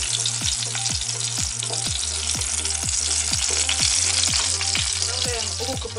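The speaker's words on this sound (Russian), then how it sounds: "Оставляем лук и помидорку обжариться." Onion and tomato fry in a pan with a loud, continuous sizzle, punctuated by regular rhythmic stirring or scraping strokes throughout, close and without speech.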